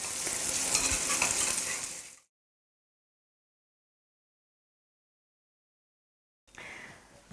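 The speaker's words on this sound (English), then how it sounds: "we'll cook the kebabs by flipping them over and out until it gets browned and roasted on all sides" Kebabs frying in oil in a pan, a loud dense sizzle that breaks off into silence and then returns more quietly.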